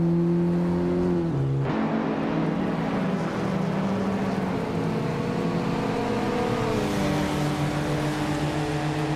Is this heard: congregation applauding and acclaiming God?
no